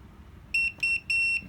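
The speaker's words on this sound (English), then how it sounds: "You'll hear the drone beep when the transmitter and the drone connect with each other." Three clear electronic beeps from an xCraft Maverick drone pairing with its SkyDroid transmitter, each a steady high tone lasting about a quarter second, evenly spaced and prominent over a faint low background hum.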